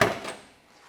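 The passenger door of a 1972 Chevrolet Chevelle opens with a single short, close latch-and-hinge sound right at the start, then fades quickly into near silence.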